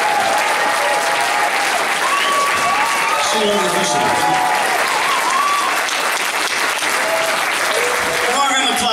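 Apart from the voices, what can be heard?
festival audience applause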